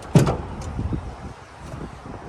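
The tailgate window of a Toyota Land Cruiser FJ60 swings open on its gas struts with a sharp opening clunk, then a soft fading rustle and faint creaks, close by and without speech.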